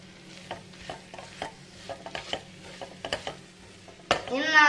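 Coriander and pepper powder go into a beef curry masala frying in a pan: soft intermittent stirring scrapes and light clinks over a faint sizzle, then a sudden louder burst of frying near the end.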